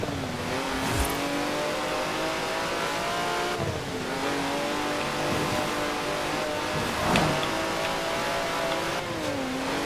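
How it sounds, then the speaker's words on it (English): Vintage 90-year-old racing car in Forza Horizon 4, its engine droning steadily and loudly throughout with pitch rising and falling through gear changes and a few sharper revs, with no talk. "That's a 90-year-old racing car."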